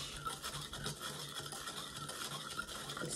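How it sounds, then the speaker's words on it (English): Hair bleach and oxidizer stirred in a mixing bowl, a continuous soft scraping and swishing of a brush or spatula working the paste, close and fairly quiet. "I'm stirring and stirring and stirring."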